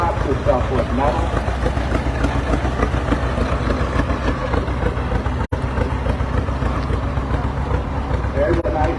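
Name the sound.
homemade tractor running on a small gas engine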